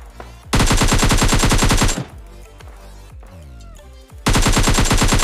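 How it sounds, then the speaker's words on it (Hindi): Loud automatic gunfire in PUBG Mobile Lite, two long dense bursts of rapid shots separated by a quieter stretch of game sounds and sweeping effects. "मुझे फायरिंग की आवाज़ आने लगती है"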